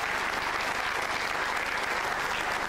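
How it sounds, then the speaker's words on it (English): Studio audience at a 1998 televised political debate breaks into sustained applause, a dense, steady wash of clapping that fills the hall at even loudness throughout. "In view of that applause"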